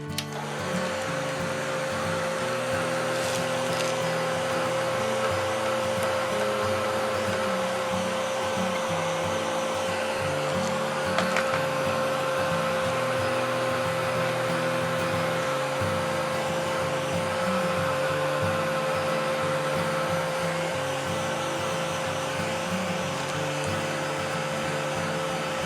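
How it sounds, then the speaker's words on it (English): Heat gun melting oil pastel on a craft tag, a steady close blowing whir with a constant tonal hum that holds unbroken for the whole stretch. "I'm going to go ahead and melt it with my heat gun"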